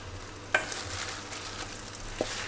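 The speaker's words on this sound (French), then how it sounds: "Ma poêle est chaude. On va mettre un beau morceau de beurre. Et on va déposer les épinards." Spinach leaves dropped into butter in a hot frying pan give a steady, moderate sizzle with a couple of brief clatters as they land.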